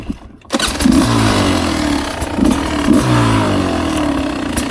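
A Beta 250 Race Edition dirt bike engine fires up after a brief pause, then settles into a loud, close, throaty two-stroke idle with a couple of short blips of the throttle, and nobody speaks.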